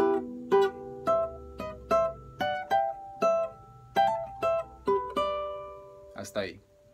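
A clean guitar picks out a short melodic phrase, about a dozen distinct plucked notes with ringing tails, ending on a bent note.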